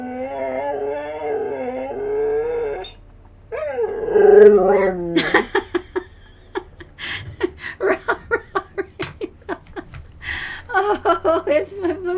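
A puppy makes drawn-out creaky, door-like whines and howls, rising and falling in short bursts, with a person talking around and between the noises.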